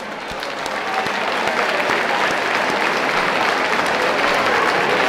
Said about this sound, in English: put your hands together for both these fighters